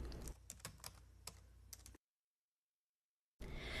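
Close, crisp computer keyboard typing, a rapid burst of key clicks, then a brief silence before a louder noise returns at the end.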